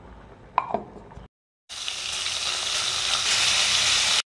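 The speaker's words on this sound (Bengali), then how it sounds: "ফোড়নে দিয়ে দিলাম শুকনো মরিচ, কালো জিরা আর তেজপাতা" Dried chillies, black cumin and bay leaves hit hot oil for tempering: a brief clatter and silence, then a loud, dense sizzle bursts up and holds steady for a few seconds before cutting off.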